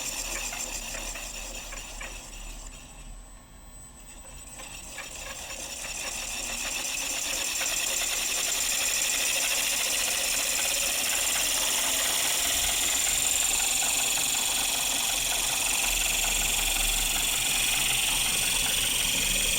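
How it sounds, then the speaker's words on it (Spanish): Electric motor run from a Sinamics G120 frequency inverter, giving a steady whirring hum with a high electronic whine. The sound dips briefly near the start, then holds evenly as the motor keeps running, close by. "Y podemos seguir variando la frecuencia de alimentación del motor."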